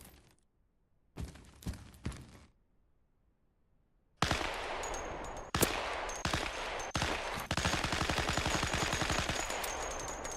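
Assault rifle fire in the video game Vorax, an M16-type weapon: a few sharp shots early after near silence, then a dense rapid automatic burst of crisp repeated cracks.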